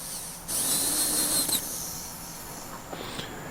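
A dental polishing disc spins against a composite tooth restoration, giving a high whining hiss in a sustained pass, a short break, then lighter intermittent touches at the end.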